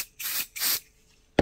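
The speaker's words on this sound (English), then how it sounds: "I just put a little bit of the spray adhesive on there." Spray adhesive is misted onto quilt fabric in two short, close hissing bursts separated by a brief pause, followed by a faint click at the end; no one speaks.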